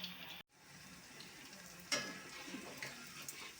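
Mushroom pieces fry in hot oil at a roadside-style stall, giving a soft, constant sizzle with scattered pops and a brief bubbling burst partway through; close but fairly quiet, with no voices.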